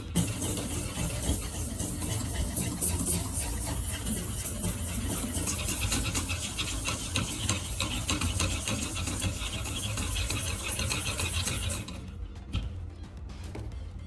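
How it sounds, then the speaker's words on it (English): A knife blade rasped steadily on fine-grit sandpaper, a continuous loud scraping rub that runs without pause for most of the stretch before dropping off near the end. "Let the sandpaper do the work, not your arm."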